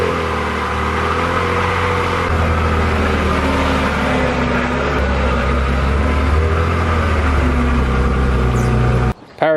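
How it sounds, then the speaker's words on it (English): A car engine runs steadily with a faint whine from a failing power steering pump over the hum, up close and continuous until a brief cut near the end. "Power steering pump is whining"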